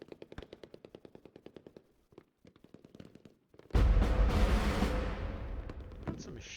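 Machine gun fire in the tactical war game Lock and Load Tactical Digital, rapid evenly spaced bursts of shots, briefly pausing, then a loud heavy explosion-like blast that rumbles and fades.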